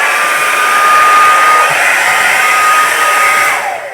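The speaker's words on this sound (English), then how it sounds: "Okay, so I'm going to do a quick blow dry on this." Hair dryer blowing steadily on a painted canvas during abstract painting, a loud close continuous whoosh with a faint tonal whine, switching off at the end.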